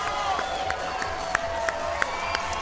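A fight crowd in Tucson roars and cheers after a finish, a dense continuous wall of shouting with a few sharper whoops standing out over a busy arena din.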